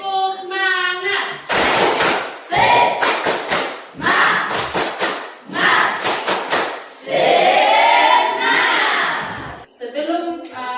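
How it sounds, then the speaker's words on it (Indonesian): A school class does a rhythmic spirit clap, with bursts of sharp, loud, close clapping in patterned beats mixed with chanting children's voices, and a leader's voice at the start and end. "Oke, satu kali lagi tepuk semangat."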